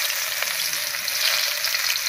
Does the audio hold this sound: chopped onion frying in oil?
yes